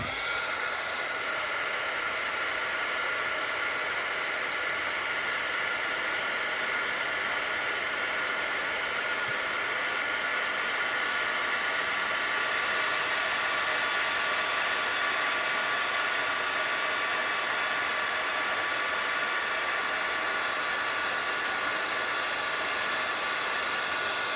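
A loud, steady blast of hot air from a heat tool, a continuous broadband whoosh with a faint whine, running unbroken for the whole stretch.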